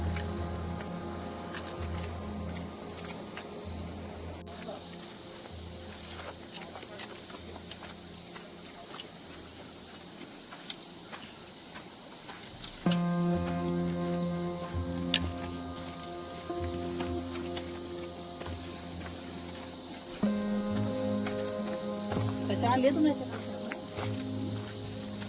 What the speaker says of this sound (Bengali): তার সাথে ঝিঝি পোকার যে ডাক